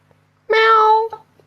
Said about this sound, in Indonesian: Tolong kalau lagi diskusi jangan bunyi kucing.